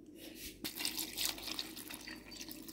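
Broth from boiled meat being poured into a bowl of okroshka with chopped cucumbers, a steady close splashing, trickling pour running throughout with no talk.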